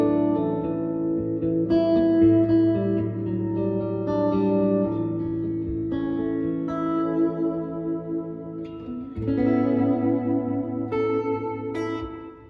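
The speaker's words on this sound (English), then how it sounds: "right now this is just on the spring reverb setting" A clean Strat electric guitar is played through a TC Electronic SkySurfer reverb pedal on its spring setting, with sustained chords and notes ringing out in a wet, lingering wash, phrase after phrase, with no voices.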